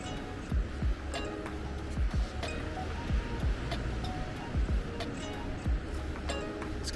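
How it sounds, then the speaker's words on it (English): Strong sea waves breaking on a windy day along the coast at Tarragona, Spain, a steady broad rush of surf with low gusty wind buffeting that recurs every second or so. "The waves are strong."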